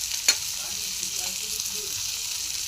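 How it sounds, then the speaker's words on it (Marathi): Rani fish frying in a pan gives a soft, steady sizzle with a brief clink near the start, faint and close. "दुसरी बाजू भाजून घ्यायची छान."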